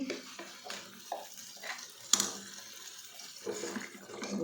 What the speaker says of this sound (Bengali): এই যে শাকটা এবার দিয়ে দিচ্ছি